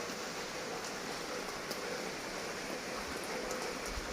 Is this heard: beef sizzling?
no